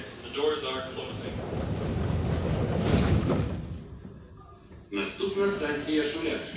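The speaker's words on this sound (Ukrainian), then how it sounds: "Обережно, двері зачиняються." Kyiv metro train on the Syretsko-Pecherska line, with a rumbling carriage and sliding doors closing, followed by a quieter gap before a voice announcement begins over the train noise.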